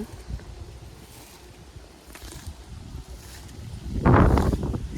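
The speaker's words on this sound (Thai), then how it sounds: "ฟังเสียงลมนะจ้าพี่น้อง ลมแห้งคักจ้ามือนี้" Dry wind gusts across an open cauliflower and broccoli vegetable plot, a steady low rumble of buffeting against the microphone that swells into a louder, close gust near the end, with no talking.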